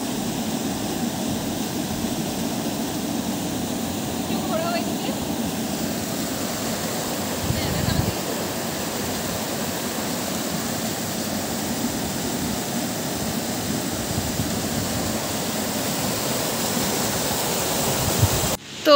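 Steady roar of Rainbow Falls, a waterfall in Darjeeling, filling the whole stretch as an even, close rushing wash with a brief louder burst midway.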